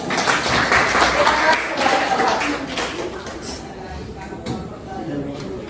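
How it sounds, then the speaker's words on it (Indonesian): A classroom audience of students claps for two classmates during a school lesson, a dense burst of applause that gradually thins and fades, with voices murmuring underneath. "kita beri aplaus"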